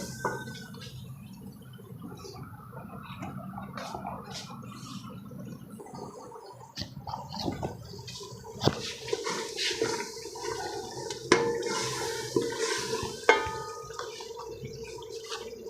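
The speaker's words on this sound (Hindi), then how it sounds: "हल्का जैसे बिच पानी पा देंगे" Water pours and splashes into a cooking pot of kadhi with turmeric, a steady liquid rush with sizzling and clinks underneath, growing louder toward the end.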